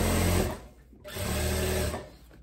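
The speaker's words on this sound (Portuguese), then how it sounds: "vou passando mais uma costurinha aqui no outro lado do elástico" Close, steady whir of a sewing machine stitching elastic onto a long dress: two continuous runs of motor hum split by a brief pause, with no talking.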